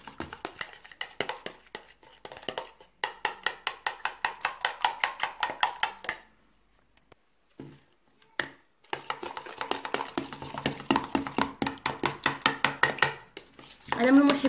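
Rapid rhythmic clicking and scraping of a utensil stirring homemade natural keratin hair treatment ingredients in a bowl, continuous bursts with a brief pause midway, close and fairly loud.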